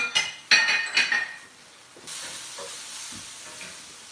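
Ingredients sizzle softly in a clay cazuela after a few clinking knocks of a utensil against the pot, the frying hiss settling into a steady, moderate backdrop.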